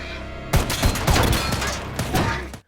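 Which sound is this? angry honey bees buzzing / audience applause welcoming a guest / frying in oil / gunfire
gunfire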